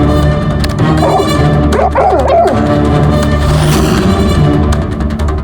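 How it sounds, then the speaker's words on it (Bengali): A dog in a soundproofed room, heard after a talkback button press, gives a few short yipping barks and whimpers over a steady background hum, fairly close. "এই কুকুরটা বোতাম টেপার সঙ্গে সঙ্গে চেঁচাচ্ছে কেন?"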